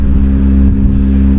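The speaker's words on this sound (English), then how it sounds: "I'll bring my tractor down" A tractor engine drones loud and close while driving on a farm, a steady low mechanical hum with even harmonics that holds without breaks through the brief stretch.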